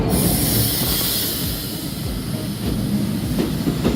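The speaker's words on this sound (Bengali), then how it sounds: "ফাইনালি আমাদের ট্রেন চলে এসেছে।" A train pulls into a railway station in Bangladesh, its loud rumble and rattling wagons running steadily close by, with clickety-clack wheel knocks and a faint squeal and hiss near the end.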